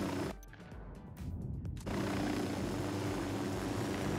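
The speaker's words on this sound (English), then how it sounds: "Got eyes on a cartel supply chopper." Cartel supply helicopter in the Ghost Recon Wildlands video game, a steady low rotor drone droning on at moderate distance, briefly dipping before swelling back to a constant roar.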